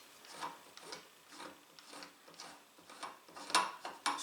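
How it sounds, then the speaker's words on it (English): Air tube being unscrewed by hand from a Hatsan BT65 Carnivore .30 caliber PCP air rifle, a steady series of soft rubbing, rasping turns with faint metallic ticks, close up and without speech. "you can take your air tube off. Just turn it counterclockwise,"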